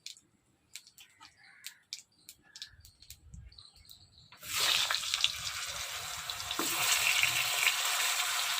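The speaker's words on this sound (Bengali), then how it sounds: "এবার পুল্লা ভাজবো, শুকনো লঙ্কা জিরা।" Hilsa pulla frying with dried chili and cumin in fish oil: after a few sparse clicks and faint bird chirps, a loud bright sizzle bursts in and grows stronger, continuing close and steady.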